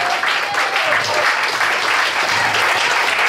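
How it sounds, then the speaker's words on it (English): A comedy night audience at a cafe applauds loudly and continuously from start to finish, a dense, close wash of clapping with some voices mixed in. "please give a big round of applause for Bill"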